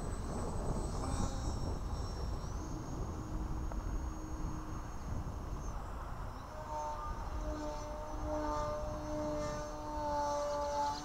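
A Techone EPP Yak 54 RC airplane with an electric motor on a 3S battery flies overhead, its propeller whine droning and shifting in pitch as it passes against steady outdoor wind noise.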